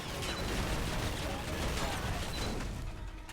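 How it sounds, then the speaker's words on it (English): Explosions and gunfire from the video game Escape From Butcher Bay, a dense continuous barrage of blasts and shots with little break, loud and busy throughout the short stretch. "Whole lot of explosions."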